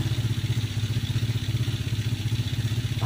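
A Honda XRM 110 motorcycle engine runs at a steady, close-up idle just after starting, with the air cleaner open and the carburetor exposed. The throb is even and pulsing, with no voices.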